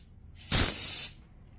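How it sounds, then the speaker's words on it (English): A short burst of carburetor cleaner is sprayed into a 2-cycle 25cc carburetor from a weed trimmer. One loud, close aerosol hiss lasts about half a second and then cuts off abruptly, with quiet before and after. "when you spray this way right here, it may push that out"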